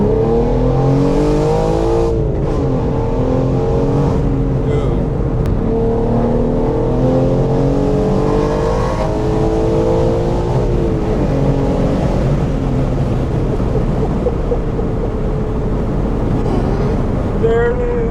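A tuned 700hp BMW M4 G82 pulling hard in second gear with traction control off, loud close engine roar rising in pitch through the run with a brief shift break, continuous and dominant throughout.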